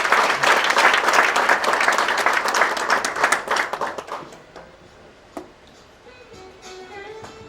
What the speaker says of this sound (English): A warm hand of applause for the children.